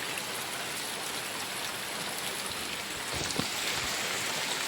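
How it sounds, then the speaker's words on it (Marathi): Rain falls steadily in Konkan with a swollen river rushing nearby, a dense even wash of water noise throughout, with a few louder splashes near the end. "पाऊस पडत आहे"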